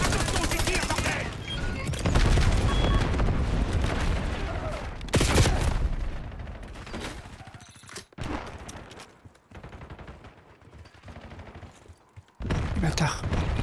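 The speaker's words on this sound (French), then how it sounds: "Attention aux tirs, bordel." Rapid bursts of automatic gunfire in multiplayer Call of Duty Black Ops 7, loud and dense for the first several seconds, then sparser scattered shots and quieter stretches before another loud burst at the end.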